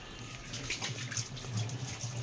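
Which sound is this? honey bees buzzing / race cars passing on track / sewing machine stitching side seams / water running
water running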